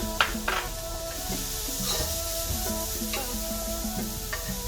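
Minced ginger, garlic and chopped green onions sizzle in a stir fry pan for a vegan dish, a steady close hiss with a few light clinks and stirring taps.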